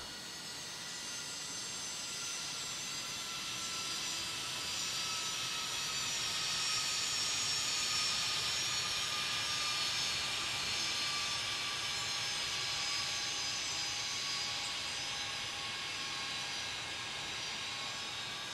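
JetBlue airliner landing at Raleigh-Durham International in the airport tower simulation game Tower! Simulator 3, a faint, steady jet engine roar that swells gently toward the middle and then holds, distant and with no talk.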